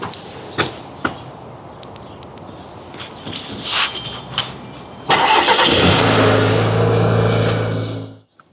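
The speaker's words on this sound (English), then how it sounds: "all that's left to do is to move this truck out of the way" Truck being started and moved out of the way on a street, beginning with scattered clicks and door-like knocks, then an engine catching and running with a steady mid-pitched idle drone for about three seconds before it cuts off.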